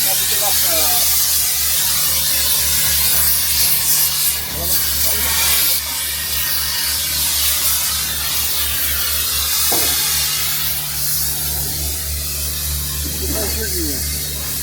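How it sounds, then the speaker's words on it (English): A cutting torch hisses loudly and steadily while burning through bolts on a wrecked truck frame, a continuous rushing jet with a low mechanical hum beneath, close, with a voice speaking faintly in the background. "gonna attempt to torch off all the bolts to the frame"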